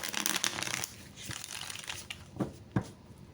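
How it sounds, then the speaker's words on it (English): Tarot cards being shuffled up close, a burst of rapid riffling followed by softer slides and a couple of sharp taps as the deck settles. "I'm just going to continue shuffling here for a few seconds"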